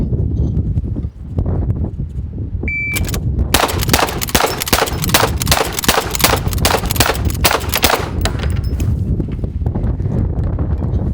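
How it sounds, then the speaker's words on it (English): A .45 Long Colt lever-action rifle fires on a shooting competition stage: a short timer beep, then a rapid string of loud, close shots in quick rhythm over several seconds, followed by a steady outdoor hum. "45 long Colt lever gun"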